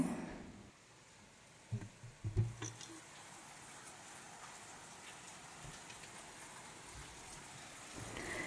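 Steady, soft rain patters in the background, with a few brief louder knocks near the start; no one speaks.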